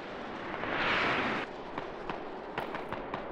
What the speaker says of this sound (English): we're going to take a look at this smoke barrage coming in on the building